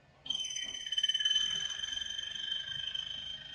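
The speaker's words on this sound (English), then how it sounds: "That's the sound of the pump whistling away to take us into scanning electron mode." A scanning electron microscope's vacuum pump gives a steady high-pitched whine with several sustained tones, starting abruptly and holding, with a faint fluttering texture underneath, fairly loud and with no voices.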